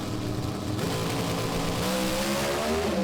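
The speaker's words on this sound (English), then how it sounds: "Revs come up, first gear, second gear, third gear, fourth gear" A drag racing car at Willowbank Raceway revs hard and climbs through the gears, a loud, continuous engine roar whose pitch rises and drops with each shift, heard from a distance.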